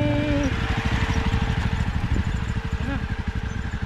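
A motorcycle engine runs at a steady, rapid idle throughout, with an even, pulsing throb close by on a breakfast ride near Satara.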